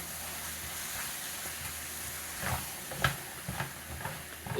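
Meat frying in a pan, a steady close sizzle and hiss with occasional louder spits and stirring scrapes toward the end, no talking.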